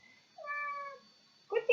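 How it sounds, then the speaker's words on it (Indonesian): A domestic cat meows once, a clear tonal cry heard alone and close, followed by a brief louder sound at the end. "Kucing."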